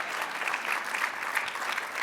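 Applause from a gala audience in Washington, D.C., a steady dense patter of many hands clapping at close range, holding level throughout with no voices over it.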